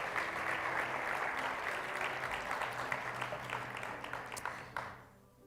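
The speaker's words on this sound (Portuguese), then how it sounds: "Você pode aplaudir ao Senhor por essa palavra." A church congregation applauds, a soft and steady wash of clapping heard at a distance that holds evenly, then fades out at the end.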